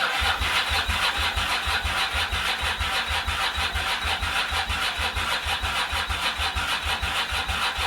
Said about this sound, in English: I went out, got some fresh fuel and tried to crank the bike over.